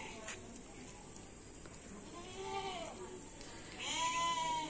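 A sacrificial goat kept at home for Eid al-Adha gives a couple of short, wavering bleats at moderate distance against a steady background hiss, with the louder call near the end.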